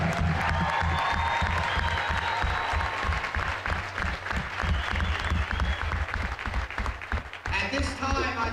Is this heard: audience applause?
yes